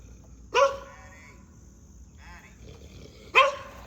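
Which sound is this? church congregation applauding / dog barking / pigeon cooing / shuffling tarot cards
dog barking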